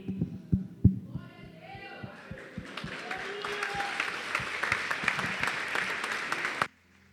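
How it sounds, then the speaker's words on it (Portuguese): Worship service audience in a church begins clapping, first a few scattered hand claps with some talking, then swelling into continuous applause with a voice over it before cutting off abruptly. "Você pode aplaudir novamente ao Senhor?"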